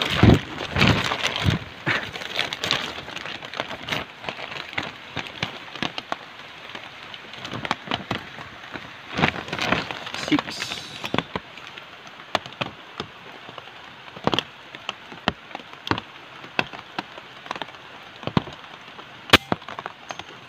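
Heavy rain lashing down outdoors with gusting wind at a pellet-gun shooting range, a steady dense patter broken by sharp loud drop impacts and bursts, continuing with no talk for about twenty seconds.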